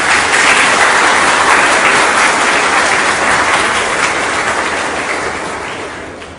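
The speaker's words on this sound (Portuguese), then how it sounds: "Podemos aplaudir a palavra de Deus." Sustained applause from a large church congregation during a Catholic Mass, loud and dense, gradually fading toward the end.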